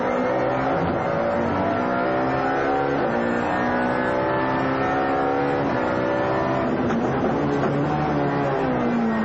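A touring car's racing engine at Donington Park drones loudly and continuously, its pitch dipping and rising as the driver shifts down to first gear for a hairpin and then accelerates out.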